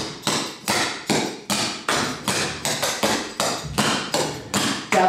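Sharp, rhythmic taps and thuds of clogging footwork, chugs and double steps, on a hard floor, a quick run of about fifteen close percussive strikes in an uneven dance pattern.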